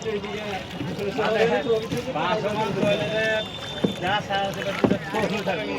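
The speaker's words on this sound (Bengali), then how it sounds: "সবাই এই লেকে নৌকা ভ্রমণ করে, ছোট ছোট নৌকা" Small rowing boat out on a lake, with faint water movement and wind under near continuous excited talk from several people on board.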